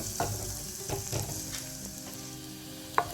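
Food frying and sizzling in a pan as tomato is added for a Kerala sardine curry, punctuated by a few soft stirring knocks and a sharp clink near the end; no voices.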